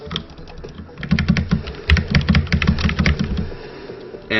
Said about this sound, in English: Unfortunately, my keyboard's really loud